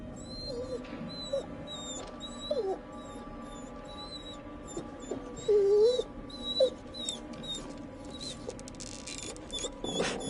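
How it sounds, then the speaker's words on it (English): Faint whimpers and high yips from a dog in the video game The Devil in Me on PS5 Pro, brief scattered cries over a low ambient drone, with people talking at times. "whimpering."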